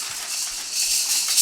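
A voice imitating a snake's rattle at an animal show, a steady breathy hiss rising slightly in strength over about a second and a half, unvoiced and close.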